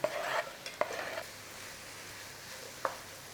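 Sausage pasta with sun-dried tomatoes is stirred in a hot pan, giving a few sharp scraping strokes over a steady soft sizzle.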